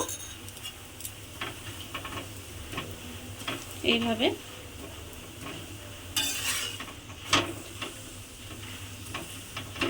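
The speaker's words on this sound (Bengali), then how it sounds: "অল্প অল্প তেল দিয়ে যেরকম পরোটা ভাজে সেইভাবে কিন্তু আমি পরোটাটা ভেজে নেব" A semolina paratha shallow-frying in a little oil on a pan, a soft ongoing sizzle broken by a few clinks and scrapes of a spatula, with some background voices.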